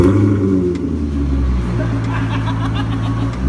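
A Maserati with its mufflers removed and straight pipes run from the resonator rumbles loudly up close, with a deep, steady exhaust drone and rising revs, no voices heard.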